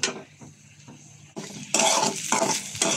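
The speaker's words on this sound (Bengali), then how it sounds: "মশলা কষানো হয়ে গেলে মাছ দিয়ে দিচ্ছি" Fish dropped into a pan of fried spice masala, starting with quiet stirring scrapes and then jumping to a loud, bright, steady sizzle, close up with no talking.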